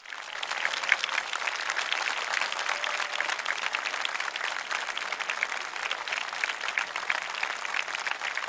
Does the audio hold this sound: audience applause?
yes